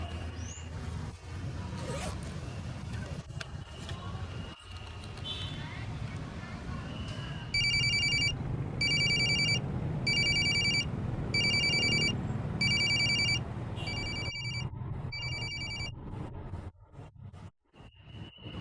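A telephone rings over and over in an indoor room, a steady run of evenly spaced rings that nobody answers, set against background noise and a few thumps and clatters.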